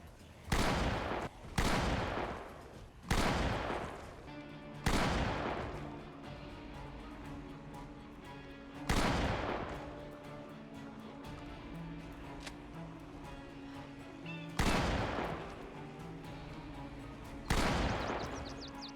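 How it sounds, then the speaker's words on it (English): Gunfire from shooting zombies in the video game Project Zomboid, a series of about eight loud, separate shots spaced irregularly over a steady background of game ambience. "so we just started shooting and we killed a lot of zombies down here"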